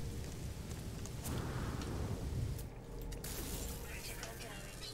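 Stormy weather in No Man's Sky, with a steady hiss of heavy rain and a low rumble of thunder building and fading midway, constant and fairly loud throughout.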